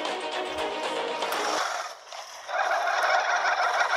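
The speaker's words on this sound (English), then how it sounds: "Birds, shut up! At least I think those are the birds." Raucous bird calls in the Path of Titans dinosaur game, a dense, honking, gobbling chatter that runs continuously, dips briefly near the middle, then swells again loud and close.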